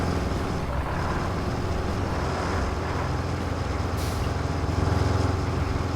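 In the construction game Roadcraft, a heavy truck lets off its parking brake with a short hiss of air, then its deep engine rumble drones steadily and grows slightly heavier as it pulls away.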